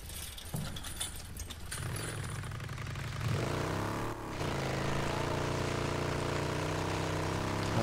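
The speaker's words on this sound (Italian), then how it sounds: "sento proprio il motore io adesso" A motorcycle engine in the video game Days Gone runs steadily with a low, droning hum that thickens and grows louder after a brief dip, continuing alone with no talk.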